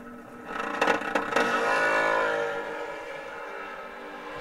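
An Oldsmobile Calais drag racing at a memorial race meet gives a brief roar of acceleration that swells, then fades into a distant engine hum.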